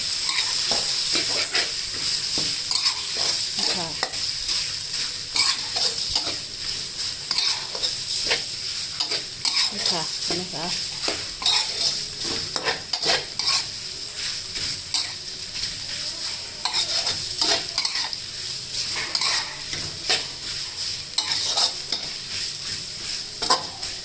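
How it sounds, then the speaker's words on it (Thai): Pork belly stir-fried in a pan with red curry paste already fried until fragrant, for a bamboo shoot dish. Loud, close sizzling runs throughout under repeated scraping and clinking of a utensil against the pan, with no talking. "พอหอมแล้วเราก็เอาหมูสามชั้นลงไปผัดนะคะ"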